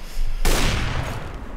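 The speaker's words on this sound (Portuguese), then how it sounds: "Dois tiros. Normais, diria eu." A gunfire burst in the video game CS:GO erupts abruptly after a brief quiet moment, a loud close crack followed by a sustained blast of shots and echo.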